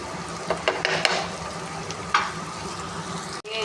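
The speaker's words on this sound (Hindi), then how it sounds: "ये ऐसे हम फैला देंगे फ्राई पैन के अंदर प्याज़ों को।" Onions spread out in a frying pan sizzle steadily in hot oil, with a close, continuous crackle and a few louder pops and stirring scrapes, heard alone without talk.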